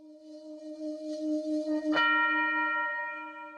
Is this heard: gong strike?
yes